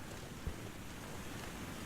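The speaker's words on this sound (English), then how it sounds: "Another beautiful waterfall." Steady rushing waterfall in the snowy wilderness of The Long Dark, a broad continuous wash of falling water with a faint bump partway through, no voices.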